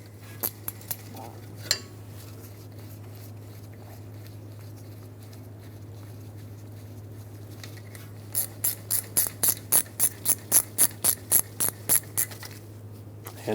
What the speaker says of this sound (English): grab that 13mm wrench or socket, tighten them up